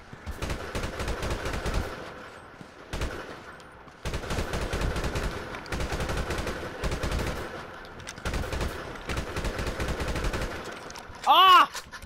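Gunfire in GTA 5 Online, including an AK rifle: loud bursts of rapid automatic shots in several clusters separated by brief pauses, with a short electronic tone near the end.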